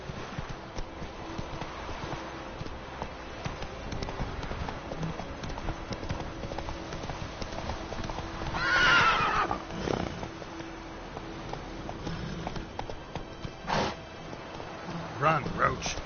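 Horse hooves clip-clop at a gallop in The Witcher 3, with a neigh bursting out around the middle and a few sharper hits near the end, all set against a steady game soundscape and some talk.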